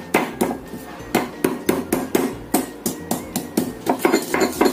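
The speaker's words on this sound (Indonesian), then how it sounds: "Di sini aku siapkan 3 siung bawang putih. Ini kita ulek halus dahulu." Three garlic cloves pounded by hand in a stone mortar, a steady run of about fifteen sharp, close thuds with a ringing clack, evenly paced and alone with no talking.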